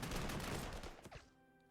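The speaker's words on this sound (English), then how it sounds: "open up with the machine gun" A short burst of machine gun fire in the World War II strategy game Panzer Corps II, a dense rattling volley lasting about a second before cutting off into quiet.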